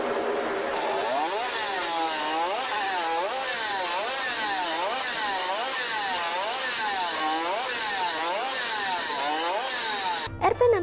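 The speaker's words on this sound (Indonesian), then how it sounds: "Motor Suzuki RP68 ini mampu berlari hingga 170 km per jam sampai 200 km per jam." A Suzuki RP68 50cc two-stroke racing motorcycle from the 1960s screams at very high revs, its sharp, buzzy whine rising and falling in steady repeated swoops, loud and continuous until a brief cut at the end.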